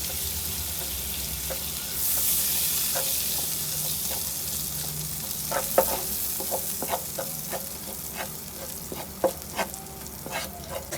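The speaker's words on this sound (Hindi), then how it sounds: "2 चम्मच मैदा, धीमी आंच पे इसको हल्का हल्का सा फ्राई करेंगे।" Two spoons of flour frying slowly in a pan on low heat, a soft steady sizzle broken by light scraping and stirring clicks, close up and with no talk.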